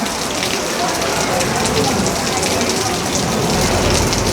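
Heavy rain pours continuously, a loud, even wash of hissing drops with no pauses, close and enveloping.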